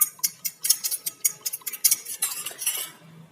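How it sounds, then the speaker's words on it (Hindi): Broken eggs being whisked in a bowl, with a quick steady run of close, crisp clinks and taps of utensil against the bowl that stops near the end; no voices. "पहले अंडे को तोड़कर डाल देंगे। तो इसको हम अच्छी तरह से मिक्स कर लेंगे"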